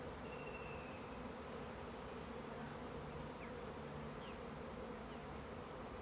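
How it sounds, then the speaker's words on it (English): A caught swarm of honeybees drones continuously, a thick, even buzzing that fills the whole stretch without pause or talk. "And there's our bees."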